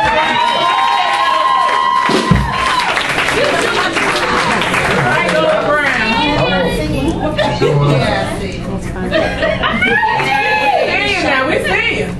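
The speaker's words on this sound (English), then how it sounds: "Y'all can give me a round of applause." A lively crowd at a Jazzy Fridays performance night cheers, shouts and applauds loudly and steadily, with excited voices and chatter woven through the din.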